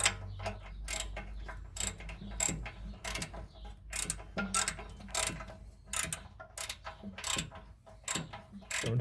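A 1/2-inch drive ratchet works a bolt on a 1963 Mercury Monterey, giving repeated bursts of fast pawl clicking in short irregular strokes, close-up and moderately quiet, with faint background clatter.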